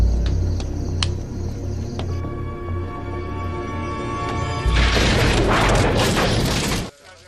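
A grenade explodes in a war film, a loud, rumbling broadband blast that lasts about two seconds after a stretch of tonal mechanical film sound, then cuts off abruptly.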